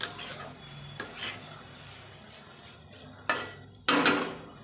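Carrot halwa with dry fruits being stirred in ghee in a metal pan, with a few sharp spoon scrapes and clanks against the vessel over a faint sizzle, no talking.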